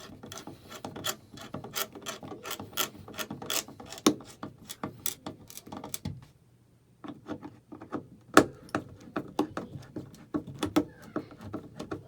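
A screwdriver drives screws to fix an electrical outlet into its wall box, making rapid ratcheting clicks in bursts. The clicking stops briefly, then resumes with a few sharper knocks, heard close up.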